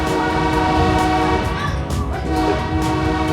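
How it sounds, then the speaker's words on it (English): A train whistle sounds continuously for several seconds, loud and steady with a slight dip in the middle, over the rumble of passing rail cars. "So that whistle sound is your standard whistle."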